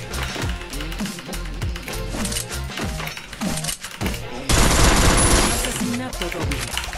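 Rapid automatic gunfire from the battle royale game Free Fire, loud bursts and rattling shots mixed with game sounds and a talking voice, with a denser, harsher barrage in the second half.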